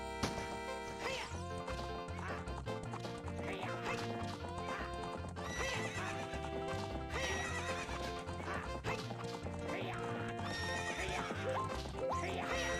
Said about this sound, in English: I want this horse.